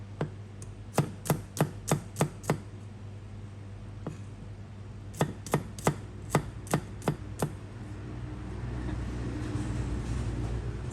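A knife chops garlic rapidly on a cutting board in two quick runs of about seven strokes each, close and crisp, with a low hum underneath.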